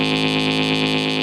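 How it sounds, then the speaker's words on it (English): ARP Avatar guitar synthesizer playing a sustained square-wave tone from its second oscillator, a buzzy harmonic drone with its filter swept by a slow LFO, giving a regular wah-like pulsing, loud and alone. "the filter modulation going, and I've got VCO2's square wave going"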